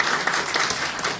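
A room full of people applauds a deputy at a public hearing, dense steady clapping for about a second.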